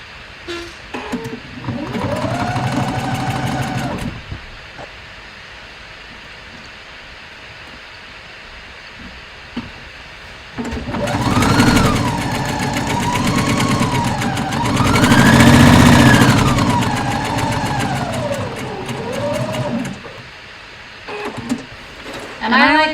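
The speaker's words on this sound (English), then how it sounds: "I'm going to stay stitch the neck edge." A sewing machine stay stitches a garment's neck edge in two long motor runs, the second rising and falling in speed as it sews, loud and close, with a voice speaking in the pauses.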